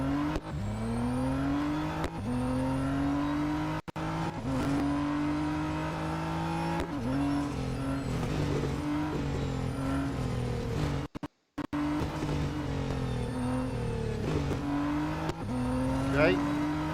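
Nissan GT-R R35 racing in Real Racing 3 during an autocross event, a steady engine drone rising and falling through gear changes with occasional tire noise, while a voice talks over it throughout.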